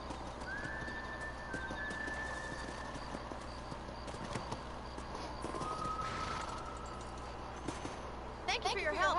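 Horse hooves clip-clop in the Western video game Red Dead Redemption, a quiet uneven run of hoof steps over ambient background, with a couple of drawn-out whistle-like tones and a burst of louder noise near the end.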